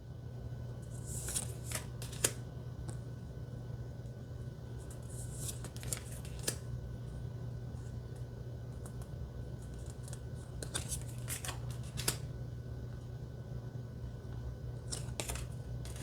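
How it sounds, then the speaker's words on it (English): A deck of Harmony Tarot cards is shuffled nearby in a quiet room, sharp riffling bursts and soft flicks in several separate runs over a faint steady hum. "let's see how they shuffle"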